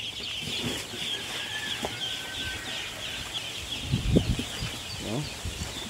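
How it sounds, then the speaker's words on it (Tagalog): Turkeys call out in a field on a farm with a few short, fairly faint gobbling bursts over steady outdoor background noise. "Aming mga pabo. Diyan sa field."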